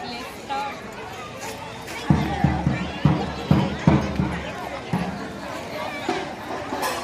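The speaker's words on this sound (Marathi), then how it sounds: "तर गर्दी खूप आहे आज, तर तरी कमी वाटते, याच्यापेक्षाही जास्त गर्दी असते" A large crowd of worshippers gathered at a temple for darshan on a Monday, with a busy hubbub of voices and footsteps, some people speaking close by and a run of thumping knocks in the middle.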